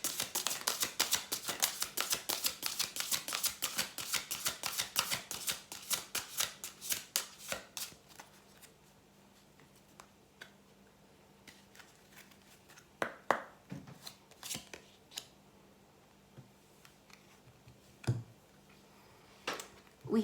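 Rapid riffling and flicking of oracle cards, brisk and close for several seconds, then slowing to scattered taps and soft slides of cards in hands.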